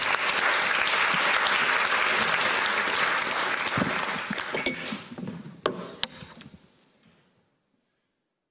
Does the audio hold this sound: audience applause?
yes